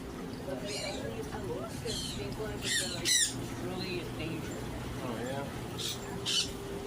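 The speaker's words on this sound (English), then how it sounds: "Got some more birds in here." Birds squawk and chirp in a pet store, with several sharp calls in bursts over a busy background hum and some nearby talking.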